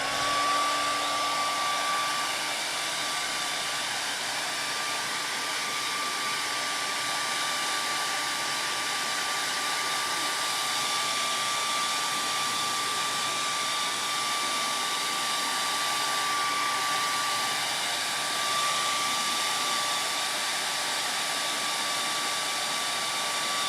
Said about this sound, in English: I'll just come along and I will hit it with the hair dryer.